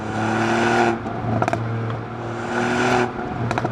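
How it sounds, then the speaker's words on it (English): A Stage 1.5 tuned MINI Cooper F56 idles steadily with a low hum, broken by two quick bursts of popping and crackling from the exhaust, each a cluster of short sharp pops. "you hear little burbles coming from the exhaust"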